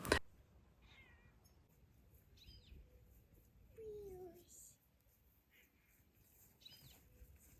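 A cat meows a few times at moderate distance outdoors by a garden near a stream, with faint bird calls and light ambient noise around it.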